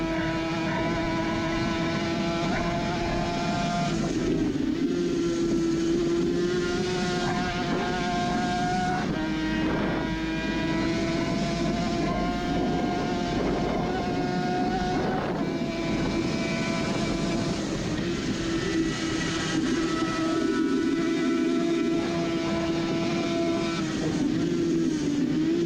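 Onboard a Suzuki RG500 classic racing motorcycle climbing a mountain course, the two-stroke engine screams continuously and loud, pitch rising and falling through gear changes and throttle swells with constant wind rush and no voices.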